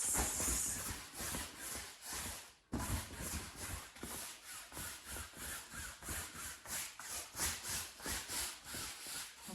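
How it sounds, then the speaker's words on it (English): Paint is rubbed and worked evenly into a canvas, heard as a steady series of rhythmic back-and-forth scrubbing strokes, close and fairly loud, with one brief pause early on and no talking. "Put the coat on there and you rub it through, evenly distribute it through the canvas."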